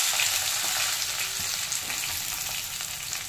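Vegetables for a vegetarian shukto fry in oil with panch phoron spices, giving a steady, close, dense sizzle with a few soft stirring knocks throughout.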